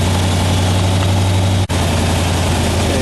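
A 1976 Corvette restomod idles steadily with a low engine drone while its Vintage Air AC compressor cycles on, the hum shifting briefly near the middle of the clip with no talking.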